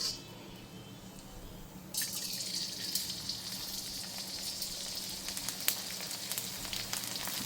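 Edible gum (gond) dropped into hot ghee, where after a quiet start it bursts into loud, close sizzling and frying with scattered crackles and pops as the pieces puff up, and no one speaks.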